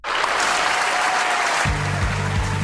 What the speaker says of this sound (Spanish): Aplausos de pie.